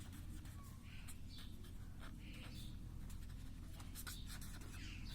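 Pen or marker squeaks and scratches in short strokes across a classroom board during a maths lesson, faint over a steady low hum, with no speech.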